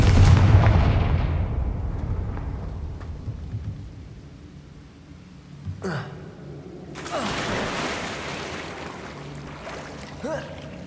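In the video game Hogwarts Legacy, the Confringo fire blast spell sets off explosions: a loud rumbling boom fades out, then a sharp crack comes, followed by another heavy roaring blast that trails off into rumble.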